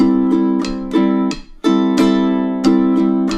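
Ukulele strummed in a steady eighth-note rhythm at 90 beats per minute, bright chords ringing close and clear with about ten even strums and no voices.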